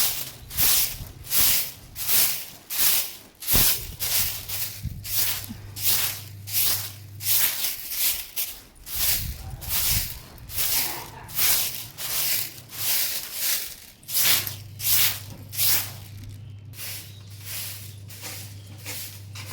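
A broom sweeps fallen leaves outdoors in steady, rhythmic scraping strokes, each a soft swish repeating about every half second, with a low hum running behind some passages.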